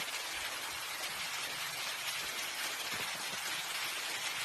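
Steady rain falls outdoors, a dense, even hiss of drops on surfaces that holds constant throughout with no talking.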